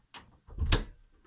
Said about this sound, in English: Closing my door.